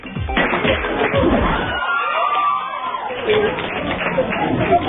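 A crowd screams loudly as a Korean singer-actor faces a press conference in the Philippines ahead of his concert. The dense, shrill crowd noise runs almost the whole time, with thumps and bursts of voices mixed in.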